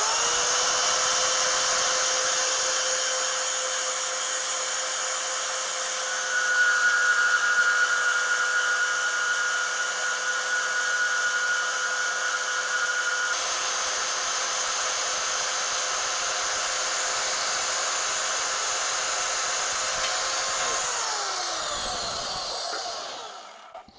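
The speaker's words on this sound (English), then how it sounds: "I'm going to go plug in the wind bandsaw and I'll show you me cutting this thing" A bandsaw cuts through thick aluminum stock, a steady loud whine with a brighter grinding layer through the middle of the cut, then the motor spins down at the end.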